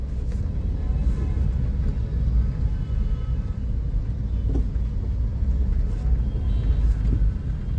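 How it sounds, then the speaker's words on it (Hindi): Car driving slowly through congested traffic between Wazirpur and Rohini, a steady low engine and road rumble filling the cabin with no voices and faint passing-vehicle swells. "ट्रैफिक चल रहा है लेकिन धीरे धीरे चल रहा है।"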